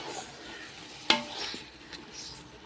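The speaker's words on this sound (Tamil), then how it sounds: "கறி, இஞ்சி பூண்டு எல்லாம் போட்டு நல்லா வதக்கணும்." Chicken pieces with ginger and garlic sauté in a pan, giving a soft, low sizzle under gentle stirring, with a couple of sharp utensil clicks against the pan.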